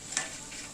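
Onion bajji sizzles and bubbles in hot oil, a brief soft frying hiss with a light stir or scrape near the start.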